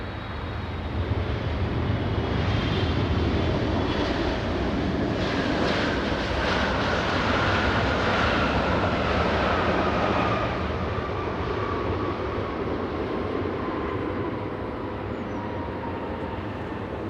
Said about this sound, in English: Look how quickly this one is taxiing compared to its Delta counterpart.